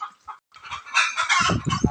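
Hens on a free-range poultry farm cluck repeatedly close by, a few soft calls at first, then a busy overlapping flock chorus with low fluttering and scratching underneath.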